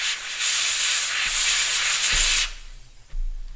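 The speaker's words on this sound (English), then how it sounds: "then I just blow some air through" Compressed air blasts through a WD-40-soaked car part to clean it, a loud steady hiss for over two seconds that cuts off, then a short second burst, close up with no talk.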